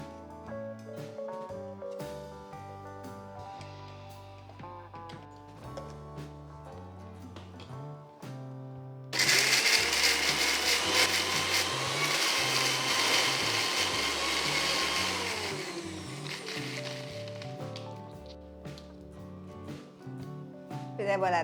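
A kitchen mixer grinder whirs loudly as it grinds cooled roasted masala for chicken mango curry, a harsh continuous motor roar of about six seconds starting abruptly and winding down, set amid background music.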